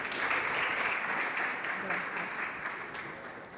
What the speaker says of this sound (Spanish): Recibamos con un aplauso a Sandra Mesa con su presentación Emprendimiento en la Neurodiversidad.